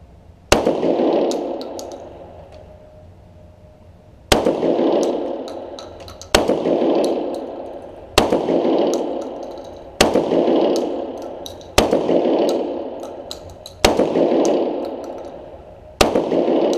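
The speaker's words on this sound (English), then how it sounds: "So it's 8 shots." A Remington Model 11 shotgun fires eight loud, sharp blasts outdoors. The first two shots are about four seconds apart, then the rest come at a steady two-second pace, each followed by a ringing echo tail.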